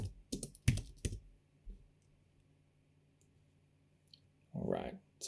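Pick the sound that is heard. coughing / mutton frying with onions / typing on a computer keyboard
typing on a computer keyboard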